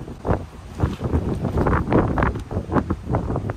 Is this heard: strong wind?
yes